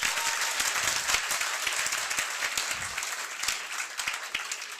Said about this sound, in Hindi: एक बार जोरदार अपने लिए तालियां बजाइए